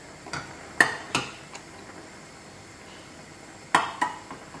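A knife pokes boiled liver inside a cooking pot, making a few sharp metallic clicks in two small clusters over a quiet background.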